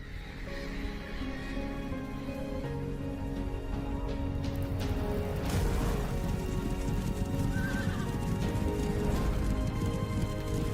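A horse neighs loudly and hooves clip-clop through the cinematic trailer for the game Horses 2025, over a dense outdoor bed that may include rain; the whinny rises midway, and no one speaks.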